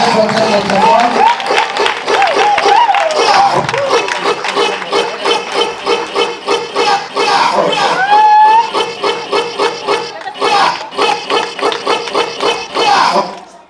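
An audience at a school award ceremony claps loudly in dense, continuous applause with rhythmic bursts, alongside crowd noise and voices speaking over it.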